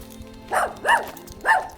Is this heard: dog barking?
yes